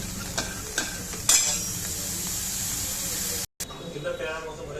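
Green peas roasting in a pan, a close sizzle under scraping stir strokes and a few sharp clinks, broken by a brief dropout near the end, with people talking nearby.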